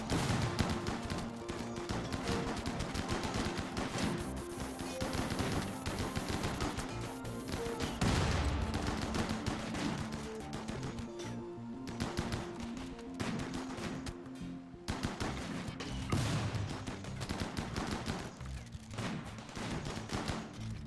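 A RimWorld shootout erupts into rapid, sustained gunfire, with bursts of shots and sharp cracks packed closely together over a steady din of combat that runs unbroken throughout.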